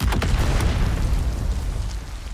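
A grenade blast in the Dune: Awakening video game, in carbon ore caves: a loud, close boom with a sharp crack at the start, then a heavy rumbling roar that sustains for a couple of seconds without fading much.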